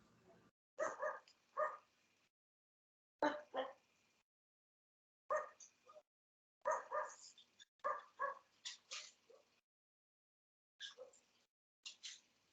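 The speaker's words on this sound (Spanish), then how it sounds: "que por ahí un micrófono abierto y se escucha por ahí un perrito" A small dog barks in short bursts of two or three yaps, separated by pauses and picked up through an open microphone during an online meeting, fairly clear against an otherwise quiet room.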